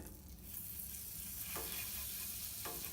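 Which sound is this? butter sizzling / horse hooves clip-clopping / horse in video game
butter sizzling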